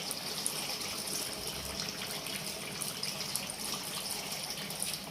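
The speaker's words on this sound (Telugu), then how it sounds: "కొంచెం వాటర్ వేసుకున్నామండి." Water pours into a pot of chicken curry as a continuous gushing, splashing stream, close and steady for several seconds with no talk over it.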